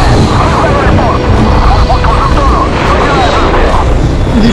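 Aircraft roar through a Battlefield: Bad Company 2 battle, a loud, sustained rushing drone with scattered bursts of gunfire and explosions, while players chatter over the top.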